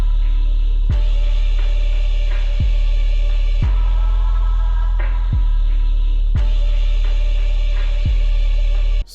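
A hip-hop beat built on a sampled loop plays loud and close, with heavy booming bass kicks landing at a slow, steady pace under layered synth and sample textures, and no talking.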